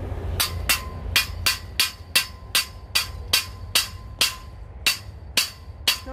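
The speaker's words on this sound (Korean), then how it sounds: "이렇게 망치로 때려서 우그러뜨려주면 이제 비닐루가 다소 찢어지지 않도록" A hammer taps the sharp metal edges of a greenhouse pad channel in about fourteen crisp, evenly spaced metallic strikes, close and clear over a low background rumble.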